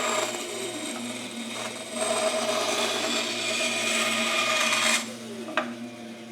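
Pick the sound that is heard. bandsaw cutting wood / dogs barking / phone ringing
bandsaw cutting wood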